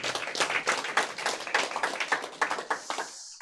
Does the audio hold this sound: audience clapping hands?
yes